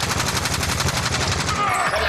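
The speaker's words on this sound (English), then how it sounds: "Taking fire!" Automatic gunfire from the video game Warzone rattles in a fast, loud, evenly spaced burst of close shots, fading slightly at the end.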